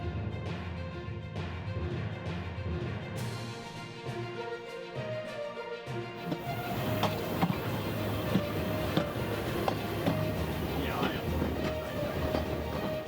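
Riding aboard a heritage train on the Talyllyn Railway, a steady rumble and rhythmic clickety-clack of carriage wheels on narrow-gauge track fill the space, growing louder and busier partway through, with faint voices in the background.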